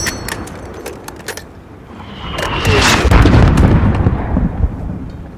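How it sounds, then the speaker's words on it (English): Mortar fire in Call of Duty Modern Warfare: sharp cracks and pops open the scene, then a heavy booming blast swells and rumbles loudly before slowly tapering off. "There's still a mortar out there."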